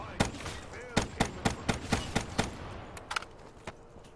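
Rapid gunfire in the Black Ops 3 Zombies shooter game, a dense run of sharp shots at a steady pace, then a few scattered bursts over constant game background noise.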